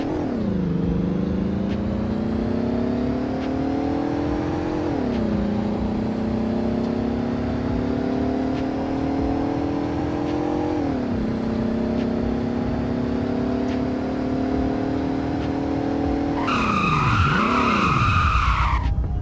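A car in the Roblox game Greenville accelerates hard through several gear shifts, its engine note climbing and dropping with each change, and ends with a sharp tire skid and squeal.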